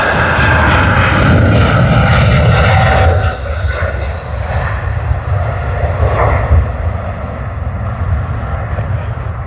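American Airlines flight AA-72, a jet bound for Los Angeles, roars loudly at Sydney Airport with a broad engine rumble that eases slightly after a few seconds and holds steady to the end.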